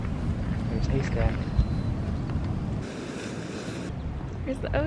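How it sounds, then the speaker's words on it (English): Ocean surf and wind at Ecola State Park on the Oregon coast near Cannon Beach, a steady broad rush of waves with wind noise on the microphone and faint voices talking underneath. "There's the ocean."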